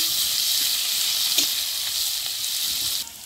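Finely chopped onions with a pinch of cumin sizzle loudly in oil left from frying fish, a close, steady hiss throughout that drops off sharply near the end.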